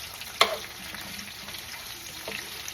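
Chicken drumsticks, onions and peppers cooking in a pan, a soft steady frying hiss with one sharp clink of a utensil near the start and faint stirring later.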